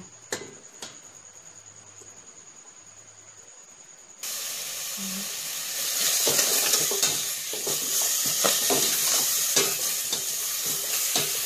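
Meat sizzling loudly in a pan as it is stir-fried for a Thai pork and eggplant curry, with a dense hiss after a quiet start and repeated clinks and scrapes of the utensil.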